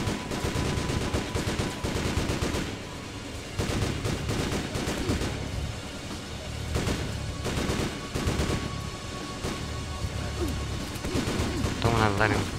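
Gunfire in the PC driving-and-shooting game Driv3r during an Istanbul chase, repeated sharp shots in bursts and single cracks across a busy game mix, with a voice talking.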